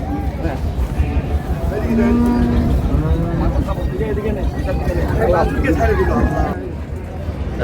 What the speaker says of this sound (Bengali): একদম জোড়া লাগা একেবারে হাই ভোল্টেজের গরুগুলো কালেকশন করছে তোতা ভাই।